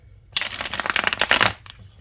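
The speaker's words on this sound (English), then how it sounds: "I'm gonna give it a good shuffle and see what we get." A holographic-edged tarot deck gets shuffled in a single crisp, riffling burst lasting about a second, close and fairly loud, with quiet before and after.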